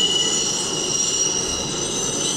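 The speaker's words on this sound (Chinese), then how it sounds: "只有火车的声音" A train rolls past in a film scene, a continuous loud rail rumble layered with a sustained high wheel squeal that holds steady from start to finish, with no voices.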